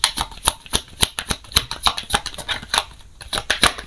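A deck of oracle cards is shuffled close by, a quick, steady run of crisp riffling flicks and taps repeating for several seconds, with no talk.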